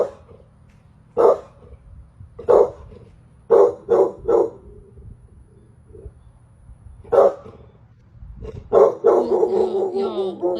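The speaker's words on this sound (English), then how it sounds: "This dog is standing in the garden barking at seemingly nothing" A dog standing in a garden barks in short, separate bursts spread over several seconds, moderately close, with quiet gaps between and a longer run of barking near the end.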